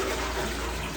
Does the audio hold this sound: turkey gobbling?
no